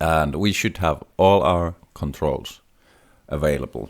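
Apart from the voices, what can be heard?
No distinct noise like a dog, phone or traffic.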